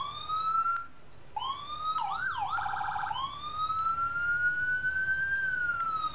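A Dodge ambulance siren from the EmergeNYC video game wails and yelps in rising and falling tones, switching patterns partway through, loud and clear with no talking.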